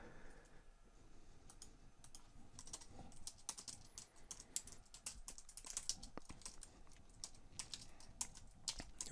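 Someone types on a computer keyboard in a steady flurry of quiet key clicks and taps that runs throughout, with no talking.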